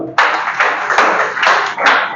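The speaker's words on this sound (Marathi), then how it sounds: "टाळ्या वाजवा" A classroom of students claps together in a loud, close burst that starts suddenly and holds steady, with individual claps pulsing through the wash.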